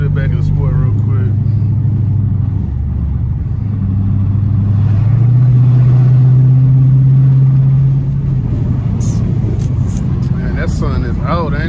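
A low, droning exhaust from a catless car cruising in traffic hums steadily in the cabin and swells into a louder sustained drone midway, while someone talks over it.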